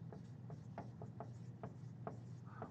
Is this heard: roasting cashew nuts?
no